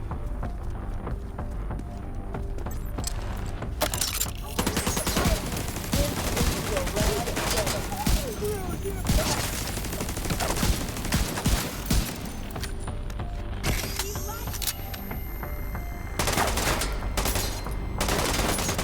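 Heavy gunfire rattles through a firefight in a Tom Clancy's video game, dense bursts and volleys of shots running continuously and loud for the whole stretch, with talk mixed in underneath.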